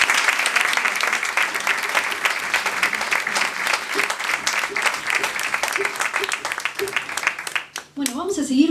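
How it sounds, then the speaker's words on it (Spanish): An audience at the Botica del Ángel claps in a warm, continuous round of applause during a live music performance; the clapping fades near the end as a voice and an instrument begin. "Un aplauso para ellos."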